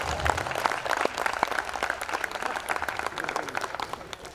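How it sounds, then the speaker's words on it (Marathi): An audience at a Marathi poetry recital in Jalna claps together, a dense burst of applause that holds steady and then thins slightly toward the end. "टाळ्या वाजून ओवाळणी देणार नाही का आम्हाला"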